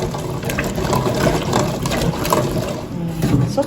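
Tap water running steadily into a container as chestnuts are washed, a continuous close splashing trickle with the faint rattle of nuts beneath.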